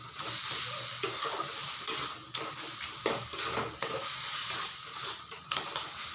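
Taro stems cooked with shrimp get stir-fried in a pan as the water dries off, giving a steady close sizzle broken by regular scraping and clacking spatula strokes, with no voices.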